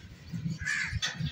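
A crow caws twice in quick succession near a village home, the harsh rasping calls fairly close and loud over a low rumbling background.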